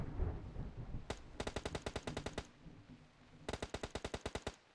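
Automatic weapon fire in the mobile battle-royale game PUBG Mobile: a short shot, then a fast burst of about ten rounds, a pause, and another rapid burst of similar length, sharp and fairly quiet.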